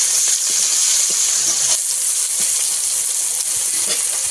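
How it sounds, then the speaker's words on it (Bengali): Onions, green chillies and a few bay leaves frying in oil, giving a steady, fairly loud hiss and sizzle with occasional faint clicks throughout, no voices. "মধ্যে কিছুটা তেল দিয়ে দেবো লঙ্কা পেঁয়াজ কয়েকটা তেজপাতা"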